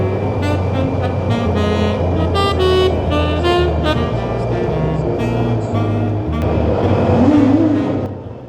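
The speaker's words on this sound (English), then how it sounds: "Someone is sounding his bike in the tunnel." A motorcycle engine revs loudly inside a tunnel on a ride near a dam between Albacete and Teruel, harmonic engine tones rising and falling and echoing, with a final surge before fading.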